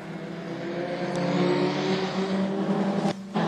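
Race cars rounding a hairpin corner onto a straight: a continuous engine drone rising slightly in pitch as the cars accelerate, steady and fairly loud, with a brief break near the end.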